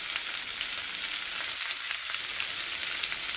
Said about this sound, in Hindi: अब ये हो गया, हमें इसको फ्राइंग के लिए डाल देंगे।